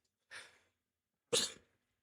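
Two sharp nasal bursts about a second apart, the second louder and fuller, like a sneeze breaking through after a first catch in a quiet room.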